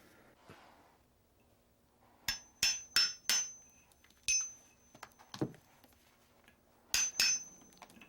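Sharp taps and clinks of a tool removing excess stone from the horns of a small carved buffalo fetish, isolated strikes in short clusters with pauses between, quiet and close.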